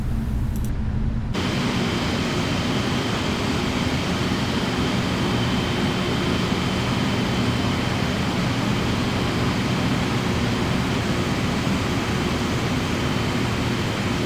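Boeing 777F jet engines idle before takeoff on a runway in Microsoft Flight Simulator 2020, a loud, steady broadband roar with a faint whine, unbroken and unchanging for the whole stretch.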